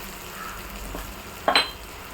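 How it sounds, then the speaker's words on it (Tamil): Tomatoes and onions fry in a pan for a curry, a soft steady sizzle underneath with a brief clink of a utensil against the pan partway through. "நம்ம தக்காளி வெங்காயம் எல்லாம் நல்லா வதங்கிடுச்சு பாருங்கள்"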